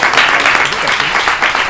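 An audience at a demo-day panel applauds its guests with sustained, dense clapping, and a voice is heard talking over it.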